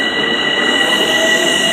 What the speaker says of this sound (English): Why is there a train at Hicksville?